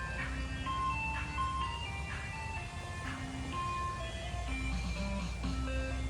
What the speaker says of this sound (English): We have a couple kids in our neighborhood that do an ice cream truck.